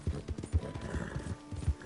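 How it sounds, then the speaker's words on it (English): Horse hooves gallop in the video game Red Dead Redemption 2, a quick rhythmic clip-clop of fairly loud, evenly spaced beats. "Because this horse is pretty fast."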